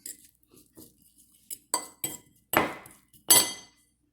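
Zeppole dough and a little oil being stirred in a bowl, heard as a series of irregular clinks and scrapes of a utensil against the bowl, growing louder toward the end.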